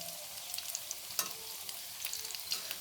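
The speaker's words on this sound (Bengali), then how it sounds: "হালকা বাদামি কালার করে আমি নাস্তাগুলো সব ভেজে নিতেছি" Bread snacks fry in hot oil until light brown, giving a soft, steady sizzle with small crackling pops and an occasional stir, heard quietly and close with no talk.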